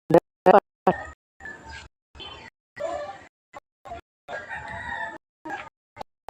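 A rooster crows and chickens cluck in short bursts, close by, with brief gaps of quiet between calls.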